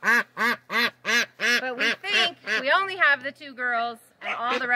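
A group of ducks quacking loudly and close by on a farm, a rapid rhythmic series of about a dozen quacks with a few drawn-out calls near the end.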